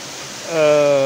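The Cascade du Pain de Sucre waterfall in the Ain countryside roars as a steady broadband rush, close and loud, with a voice speaking over it near the end.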